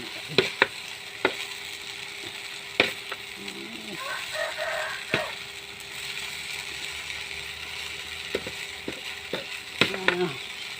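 Wai Wai instant noodles with egg being stir-fried in a pan at home, with a soft steady sizzle and scattered scraping, clattering strokes of a utensil against the pan at irregular intervals.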